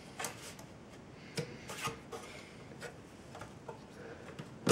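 Front panel of a Synology DS218 NAS being pulled off, a series of faint close plastic clicks, rubs and scrapes with a sharper snap at the end, no talk.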